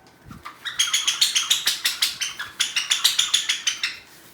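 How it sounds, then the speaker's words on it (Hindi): A toy bird-sound effect gives a rapid, steady series of bright chirps for about three seconds, close and fairly loud, with no talk over it. "Sounds like a bird."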